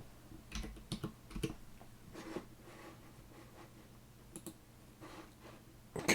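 Data is typed on a computer keyboard in a quiet room: soft, irregular key clicks come in short bursts with pauses between them, close by and fairly faint, with no talking.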